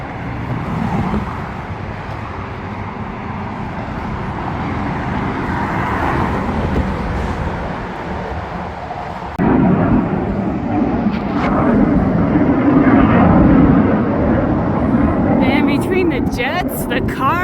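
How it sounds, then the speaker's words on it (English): Loud roadside din near Torrey Pines: steady car traffic and a jet overhead, with a train rumbling past that swells louder midway, all blended into a continuous close wash of noise. "Jets, the cars, and that train that went by, it is noisy."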